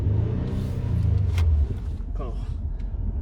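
A car's engine revving in place without being in drive, a low, steady rumble that swells for a moment then drops off abruptly, followed by quieter idling while a person talks nearby.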